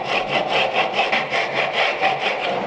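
A hand saw rips through a wooden tenon for a mitered bridle joint in even back-and-forth strokes, about five per second, close and clear with no talking.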